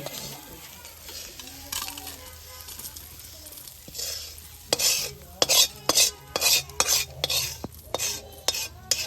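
Ingredients fry together in a pan in a village kitchen: a steady low sizzle, then a run of loud, rhythmic metal scrapes and clatters as a utensil stirs against the pan, with no talk.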